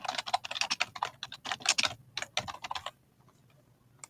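Fast, close typing on a computer keyboard, with a dense run of crisp key clicks for about three seconds before it stops and leaves near silence. No one speaks.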